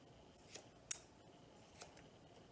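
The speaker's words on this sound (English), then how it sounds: "I'm going to trim it with the scissors just to the line." Scissors trim an English springer spaniel's fur during show grooming: three or four quiet, crisp snips, one sharper than the rest, close by in a calm room with no talking.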